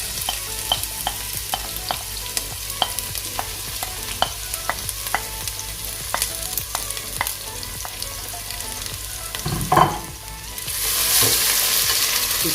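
Ginger and garlic paste fries in a pot of mutton korma, giving a steady close sizzle with a regular tapping of the stirring spoon, then a louder hiss and clatter near the end.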